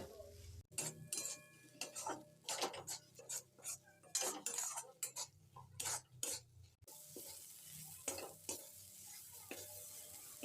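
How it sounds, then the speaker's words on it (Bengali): A spoon stirs crushed fried chilies into mashed bean bhorta in a bowl, with repeated scraping and clinking strokes of metal on the dish in an irregular rhythm, close and fairly quiet, alone without talk. "এবার এই গুঁড়োনো ভাজা লঙ্কাটাকেও খুব ভালো করে ভর্তার সাথে নেড়ে চেড়ে মিশিয়ে নিতে হবে।"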